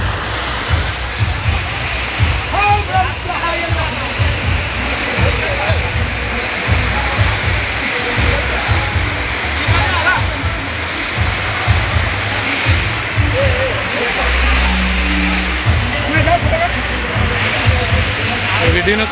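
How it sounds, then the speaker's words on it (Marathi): Water pours steadily down steps at a water park, a constant broad rushing wash that fills the whole clip, with voices and low rumble mixed in underneath. "पायऱ्यांवर पाणी कसं येतं."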